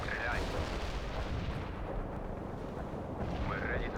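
Artillery barrage in World in Conflict, heavy rumbling shellfire rolling steadily under the action, with faint high chirps of game effects at either end.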